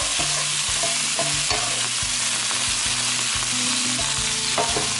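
Chinese chive flowers and shrimp stir-fry in a hot pan, giving a loud, dense sizzle that runs through the whole stretch, with repeated scraping and clacking strokes from the stirring utensil.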